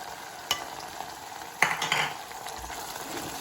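Turmeric and chilli powder stirred into hot oil in a pan, soft sizzling under a few spoon scrapes and knocks, with a louder stirring burst midway, close and otherwise quiet.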